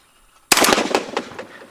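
A single loud shotgun blast fired at a low house clay on a skeet field cracks sharply after a quiet moment, followed by a rattling, echoing decay across the range.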